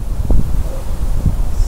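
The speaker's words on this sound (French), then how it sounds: "il y a un sale vent qui s'est levé là" Wind blowing outdoors, a rough, gusty rumble buffeting the microphone in uneven pulses, loud and close, with faint rustling behind it.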